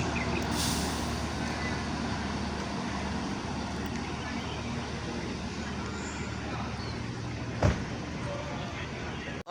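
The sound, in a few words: intercity bus departing the terminal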